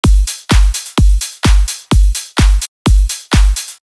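Slap house remix drums with a kick and ride cymbal struck together, no sidechain: eight evenly spaced hits, each a deep thump topped by a bright metallic wash, loud and alone with short gaps between.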